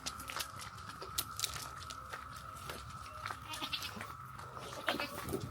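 Goats at a Kentucky farm bleat and chew near a water trough, with scattered close-up crunching and several short bleats breaking through a quiet background hum.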